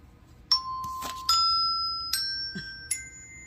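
Four bright bell dings ring out one after another with a steady pace, each one clear and close, then fading slowly into a quiet background with no talking.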